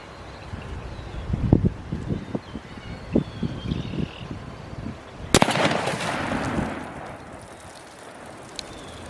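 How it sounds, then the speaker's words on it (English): A .308 rifle fires a 165-grain Accubond bullet into water jugs about 50 to 60 yards away outdoors: one sharp, loud report cracks out midway, then rumbles off over steady wind noise and scattered thumps. "I just shot the 165 Accubond out of my 308 at around 50 to 60 yards into some water jugs."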